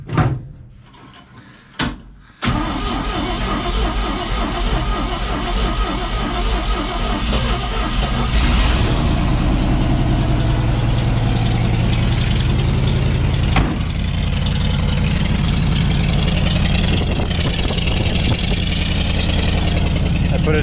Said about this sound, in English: Do a little cold start here for you guys.